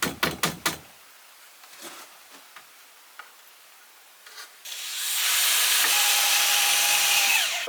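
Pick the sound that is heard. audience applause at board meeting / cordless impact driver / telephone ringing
cordless impact driver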